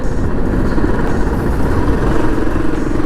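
A Royal Enfield Himalayan motorcycle idles close by before a ride, a loud, steady low engine rumble with an even mechanical thrum throughout.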